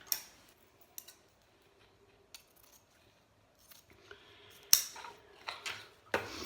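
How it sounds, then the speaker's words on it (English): Scissors cutting burlap ribbon off the bolt for an Easter wreath, a few quiet scattered snips and clicks, then a louder flurry of crisp cuts and handling noise toward the end. "All right, so then of course we have to cut it off the bolt."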